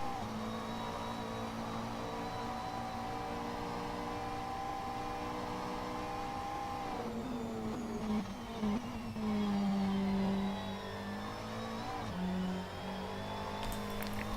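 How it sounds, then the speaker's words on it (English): A GT3 race car engine drones steadily at high revs at Barcelona, its pitch shifting and rising as it accelerates down a long straight, heard from on board with no talking. "As he comes down long straight, I'll let you really hear this engine go to work."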